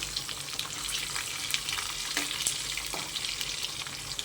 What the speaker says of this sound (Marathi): लसूण आपल्याला थोडा गुलाबी रंगावर फ्राय करून घ्यायचा आहे